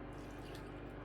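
Water poured steadily into a measuring cup for a cake batter, a continuous close trickle filling the cup over a low background hum.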